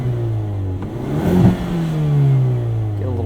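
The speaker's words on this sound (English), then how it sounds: "let's give it a little bit blip. Here it is in just normal drive mode." A 2019 Hyundai Veloster N Performance Pack in normal drive mode with its exhaust valve closed gives a quick rev blip, the engine rising and settling back to a muted, low burble at idle.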